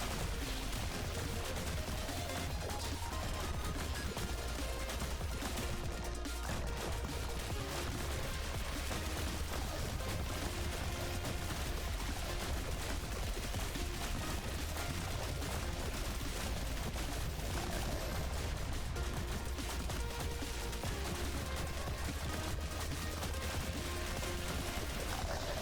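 Dense, continuous barrage of explosions and blasts from the video game Pathogenic, loud and chaotic with rapid overlapping bursts layered over a constant busy game soundtrack.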